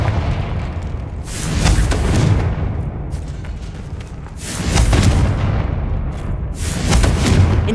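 Confringo spell blasts in Hogwarts Legacy: heavy, artillery-like booms come in repeated surges, near and loud, with rumbling low-end swelling and easing between each strike.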